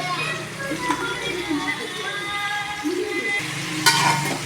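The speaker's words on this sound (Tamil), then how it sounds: "கத்திரிக்காவை நல்லா வதக்கலாம்" Eggplant sautés in hot oil in a pot for a Tamil-style kathirikai kuzhambu, with a steady close sizzle and the occasional scrape of stirring. Faint voices sound in the background.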